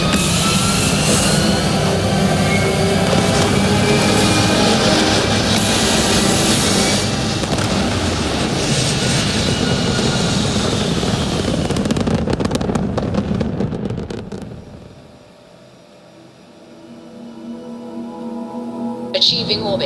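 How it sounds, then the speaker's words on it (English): Spaceship engines roar at liftoff in the video game Starfield, a loud, dense, sustained rumble with crackling bursts for about thirteen seconds that then fades sharply and builds again, with voices over it. "We have liftoff."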